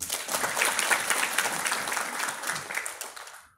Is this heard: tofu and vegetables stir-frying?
no